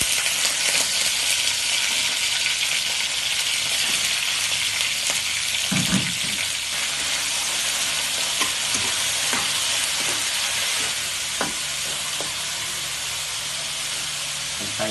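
Meat sizzles and fries steadily in a pan as the first step of cooking ginataang kalabasa at sitaw, a continuous crackling hiss with occasional stirring clinks and no talk.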